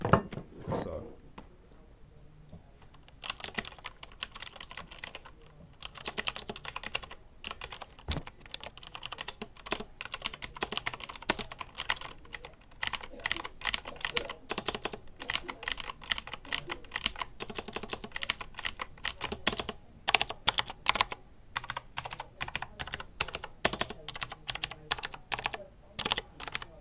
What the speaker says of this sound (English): if we go and compare to the Razer Blackwidow Elite with the Razer Green tactile and clicky switches, it's very, very different